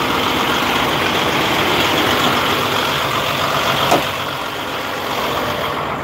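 Vehicle engine idling steadily, a close continuous rumble with a brief transient near the end, then a slightly quieter idle, with no talking.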